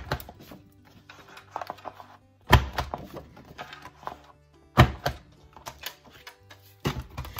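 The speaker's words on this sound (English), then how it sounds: "this tool also has this little thing right here that you can stick the edge, your corners in, and it will round out your corner" A corner rounder punch rounds the corners of a paper envelope, giving two sharp, loud punches among softer handling clicks and paper rustles.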